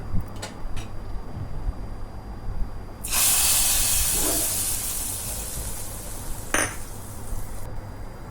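Mustard seeds, curry leaves and fenugreek powder hit hot oil for a Kerala-style mackerel curry tempering, bursting into a loud sustained hiss and sizzle after a few light clinks, fading slightly with a brief sharp spurt near the end.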